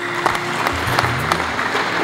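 Steady applause from a crowd at a wedding ceremony, continuous clapping that fills the whole stretch at fairly high level with no voices on top.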